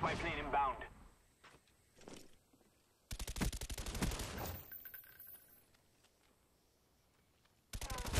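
Call of Duty Black Ops multiplayer gunfire, several bursts of rapid automatic shots with single shots between and a voice talking over the start.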